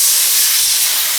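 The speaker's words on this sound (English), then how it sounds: "I'm blowing the filter to get the extra gunk out." Compressed air blasts steadily through the removed inlet filter of a Rinnai tankless water heater, a loud, continuous hiss with no break.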